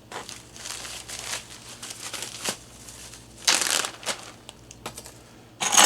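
A package of instant pudding mix crinkles and tears open in close, uneven bursts of rustling plastic, with a sharper rip near the middle and another at the end.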